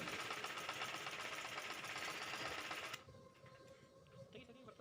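A sewing machine running continuously as it stitches the neckline of a baby frock, a loud fast steady whirr that stops abruptly, leaving faint room noise and quiet handling sounds.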